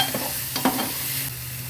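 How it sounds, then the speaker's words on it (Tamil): Spices such as chili and coriander powder stirred in a frying pan for fish curry: close scraping strokes over a continuous, soft sizzle, with no speech. "நல்லா கலந்துடுங்க, தனியாத்தூளோட அந்த பச்சை வாசனை போகிற வரைக்கும்."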